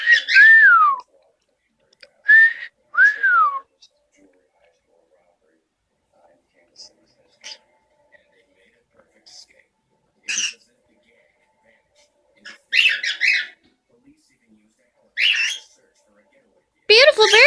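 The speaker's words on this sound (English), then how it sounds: "Beautiful birdies!" A pet bird gives several rising and falling whistles early on, then scattered short squawks and chirps, fairly close, with quiet gaps between calls.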